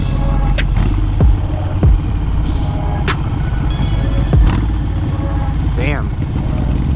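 Harley Sportster 883 motorcycle fitted with a Hammer 1275 kit, its engine revving hard on a downshift with a throaty, rising roar, loud and close, with wind noise and a brief voice in the background.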